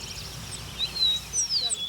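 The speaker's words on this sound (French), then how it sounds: "on n'entend que le gazouillis des oiseaux" A few thin, high bird chirps flit over a quiet, hushed background, with short whistled notes rising and falling.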